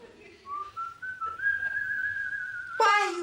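Someone whistles a sustained, wavering tune, holding one long rising note before a brief burst of other sound at the end.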